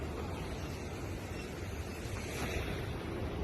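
Broad, steady rush of sea waves on a beach, mixed with wind buffeting the microphone, continuous and fairly loud throughout with no voices.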